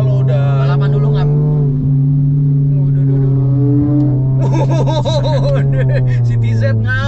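A Toyota Yaris engine hums steadily up close, its tone climbing slowly as it revs, while people talk and chuckle nearby.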